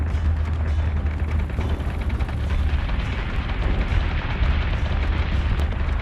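Battlestar weapons fire in the space battle game Battlestar Galactica Deadlock, a loud, continuous barrage of deep booming blasts and rumbling explosions packed tightly together with no pause.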